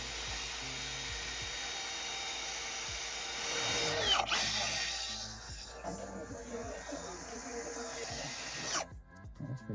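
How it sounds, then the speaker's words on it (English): A Milwaukee power drill whirs steadily with a scraping, buzzing wire brush against cracked metal, rising briefly in the middle before cutting off near the end. "We're gonna get the trusty Milwaukee drill here."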